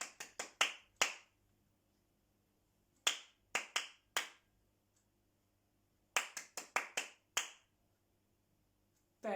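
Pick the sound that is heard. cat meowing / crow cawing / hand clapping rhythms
hand clapping rhythms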